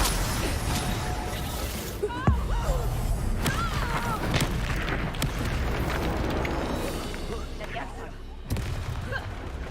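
A Confringo fire spell bursts in a Harry Potter video game, sharp crackling blasts and booms amid combat clatter, with a voice calling out over the din.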